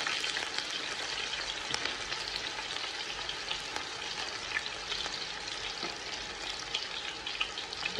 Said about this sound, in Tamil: 200 கிராம் வெங்காயம், நல்லா பொடிசாக நறுக்கிற வெங்காயம் சேர்த்து